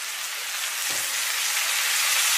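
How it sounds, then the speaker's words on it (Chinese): Carrots and pork slices stir-fried in a wok with a splash of light soy sauce give a steady, fairly loud sizzle that hisses evenly throughout, with one brief low thump of the pan or spatula. "然后继续给它翻炒均匀，炒至入味"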